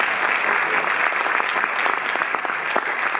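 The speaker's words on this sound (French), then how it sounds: "On peut applaudir Cinecittà." A cinema audience at the Cinémathèque française applauds at a film presentation, a dense, steady wash of many hands clapping close and loud throughout, with no voices standing out.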